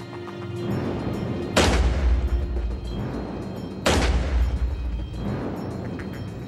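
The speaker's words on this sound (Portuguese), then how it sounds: "nosso especialista usa uma arma de cano longo que mantém o tiro concentrado em um padrão mais estável ao longo do cano" Two heavy booming gunshots from a long-barrel gun, each a sharp blast that rolls off into a long, low-rumbling decay, a couple of seconds apart and loud and close.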